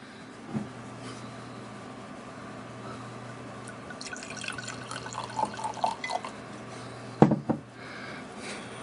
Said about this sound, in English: Okay, let's pour some of the red.